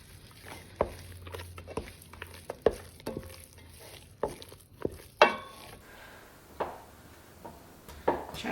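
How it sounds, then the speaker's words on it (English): Cubes of butter being stirred into a pot of cooked potatoes for mashed potatoes, with irregular soft scrapes and knocks of the utensil spaced a second or so apart, close by and with no voices. "I'm just going to dump that in with the potatoes and give it a stir"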